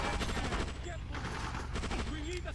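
Rapid gunfire rattles in the action video game Just Cause, dense machine-gun bursts with overlapping shots filling the short stretch, close and loud.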